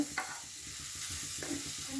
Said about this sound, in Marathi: आलं लसणाची पेस्ट मी छान उकळीमध्ये कुटून घेतली याला हेही छान आपल्याला परतून घ्यायचं